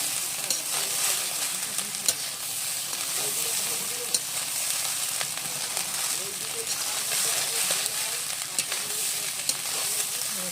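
Rice being stirred and fried in a pan for party-style fried rice: a steady, dense sizzle runs throughout with scattered scraping clicks from the spoon, fairly close.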